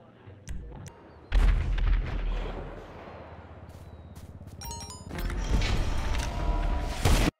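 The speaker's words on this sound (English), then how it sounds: "Still shooting at me, dude." Video game gunfire rattles in loud, rapid bursts, with mechanical clanks and a dense stretch of repeated shots near the end, close and without talk.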